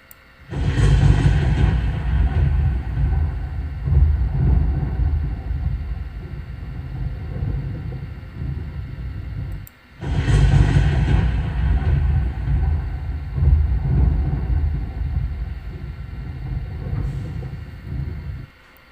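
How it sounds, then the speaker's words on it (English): Long, deep rolling thunder booms loud and close, fading slowly, then a second heavy rumble follows and rolls on to the end. "It's a thunder. Is it a natural sound?"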